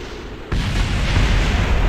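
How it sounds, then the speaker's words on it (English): A spacecraft explodes in the Kerbal Space Program video game, with a loud, sudden blast that swells into a dense, rumbling roar and holds steady with no talking. "Major explosions all around."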